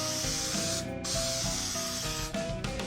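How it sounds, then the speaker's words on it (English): Spray gun applying a second coat of adhesive to a Jeep Cherokee XJ headliner: a steady, close, continuous hiss that holds throughout with only slight dips, no voices. "we're going to spray in the opposite direction for that second coat"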